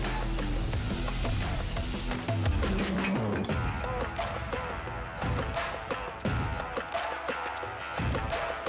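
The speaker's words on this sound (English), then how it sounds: "spray painting is no joke" Loud hiss of a spray paint can spraying during a video game trailer at Summer Game Fest 2022, about two seconds of steady spray layered over dense music and game sound effects.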